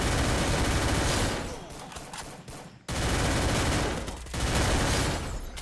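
Rapid gunfire in the mobile battle royale game Garena Free Fire during a solo versus squad match. Loud sustained bursts fade, cut out briefly near the middle, then resume at full strength.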